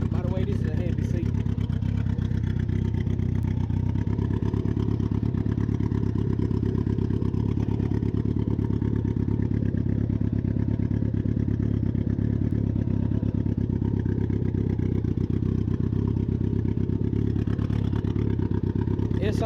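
A rebuilt EFR motorcycle engine idles steadily close by, a loud, continuous low throb with a faint mechanical clatter that holds unbroken from start to end.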